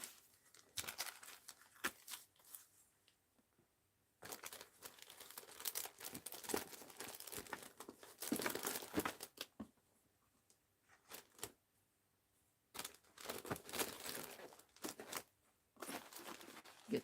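Paper pictures being cut and trimmed for postcards and art journals, bursts of close crinkling, snipping and rustling paper separated by quiet pauses, with no speech.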